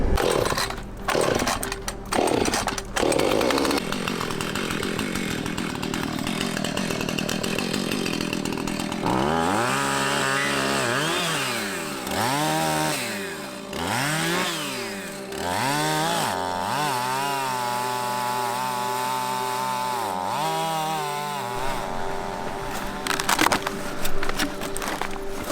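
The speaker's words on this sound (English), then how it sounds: "we might need your chainsaw" A chainsaw cuts through a storm-fallen tree blocking an off-road trail on a foggy ridgeline on Vancouver Island, loud and close, its engine revving up and down in repeated surges as the blade bites into the wood.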